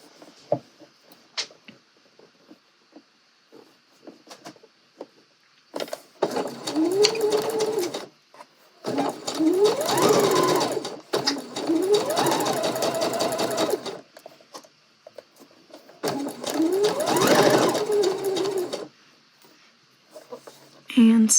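A sewing machine stitches a dress pocket from dot to dot in four close, steady bursts of a few seconds each, with quiet pauses between them. A person speaks in the background.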